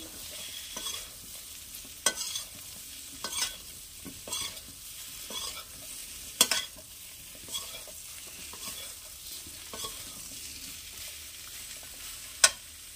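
Parboiled shish palong greens stirred and fried in a pan, a continuous hiss of sizzling broken by irregular sharp scrapes and knocks of the spatula, one louder clack near the end.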